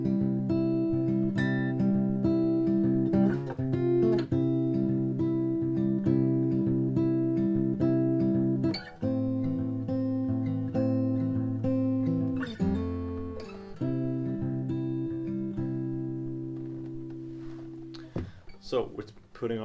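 Guitar in standard tuning plays the intro of a song, ringing sustained chords and single notes with several pauses and re-attacks, close and clear with no talking.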